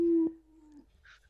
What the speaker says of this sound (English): the initial howl that you heard is from behind you